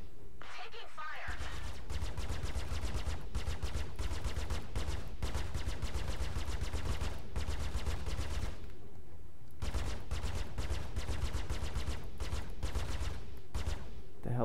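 Rapid bursts of spaceship weapons fire in the video game Star Citizen, dense repeating shots in long volleys under synthetic cockpit voice alerts, with short gaps between bursts.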